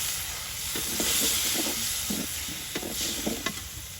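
Potatoes sautéing in a pan in a village kitchen with ginger paste, spice paste and chopped onion for a fish curry, a steady sizzle and hiss under repeated scraping strokes of a stirring spoon, close and fairly loud.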